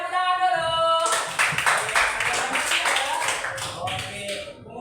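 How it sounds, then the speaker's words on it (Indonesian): Classroom students clapping their hands together, a loud, crowded burst of rapid claps starting after a short spoken line and continuing for several seconds before tapering off, with voices mixed in. "Iya, tepuk tangan dulu."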